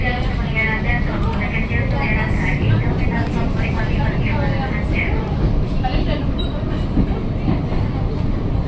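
KRL INKA electric commuter train pulling out of a track at Jakarta Kota station, a steady loud rumble with whining electric motor tones and wheel noise, continuous and close.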